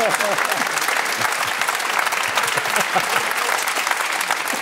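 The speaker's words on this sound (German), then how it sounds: "Oh, das ist ein Applaus wert." Loud, sustained applause from a large studio audience at a German football talk show, dense clapping that holds steady throughout.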